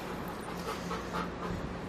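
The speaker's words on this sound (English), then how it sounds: "He's just excited because he hears all the other dogs." A police dog in training pants quickly and whimpers softly in excitement, the short, breathy sounds sitting close and fairly quiet with no voices over them.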